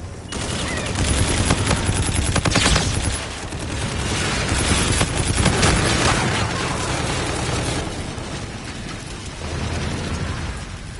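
Dense automatic gunfire in Call of Duty: Infinite Warfare multiplayer, aimed at an enemy Vulture, loud continuous rattling shots layered with explosions and battle noise throughout.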